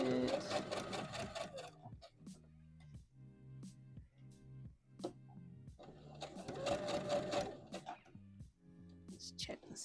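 A sewing machine stitching a McCall's M8141 misses' dress, close and mechanical, with bursts of rapid stitching separated by slow single stitches and pauses, as someone talks over it.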